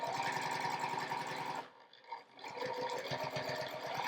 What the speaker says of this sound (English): So I'm going to sew across.